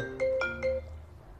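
A phone ringtone sounds close by, a short run of bright electronic tones repeating in a quick melodic pattern before fading.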